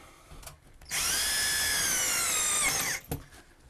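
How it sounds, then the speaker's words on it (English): A power drill drives a screw into drywall in one close, steady whirring burst lasting about two seconds, with faint handling knocks just before and after. "Let me just pop a screw in there."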